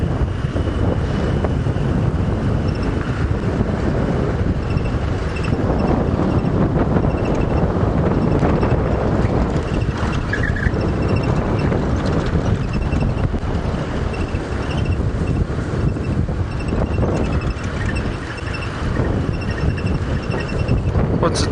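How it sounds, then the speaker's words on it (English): Strong wind buffets an outdoor microphone in a broad, continuous roar during an early-morning safari drive, loud and steady throughout with slight surges. "You can probably hear the wind through my microphone."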